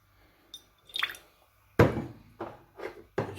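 Olive oil and red wine vinegar are poured for a light vinaigrette, heard as a few short, close liquid splashes and drips with brief gaps in between.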